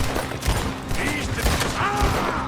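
Gunfire in Red Dead Redemption 2 during a gameplay shootout: several sharp shots ring out over busy game ambience, with voices faintly mixed in.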